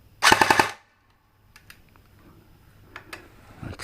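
A Golden Eagle Type 96 airsoft light machine gun fires one quick full-auto burst of about five sharp, close rattling shots, followed by faint clicks and handling noises.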